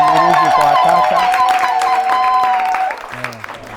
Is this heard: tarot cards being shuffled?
no